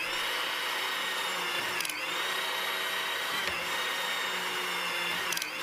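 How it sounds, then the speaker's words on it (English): A HYTORC hydraulic torque wrench driven by its pump rotates a nut, giving a loud continuous mechanical whine and hum with brief shifts in pitch every few seconds, heard alone. "Using the pump control, advance the wrench so that it rotates the nut."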